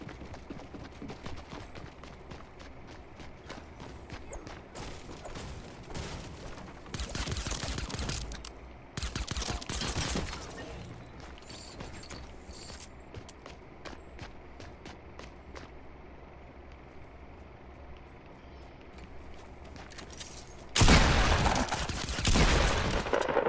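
Pistol gunfire in Fortnite: several bursts of sharp game shots, loud and close, separated by stretches of rapid running footsteps, with a final louder burst near the end and no voices.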